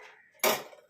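A metal lid set onto a pot of simmering moong dal gives a single bright clang with a short ringing decay, close and alone after a soft hiss.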